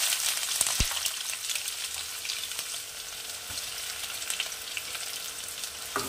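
Sliced onions with green cardamom, cinnamon and cloves sizzle steadily in hot oil for chicken tehari, a continuous close frying hiss with occasional stirring clicks and no voices.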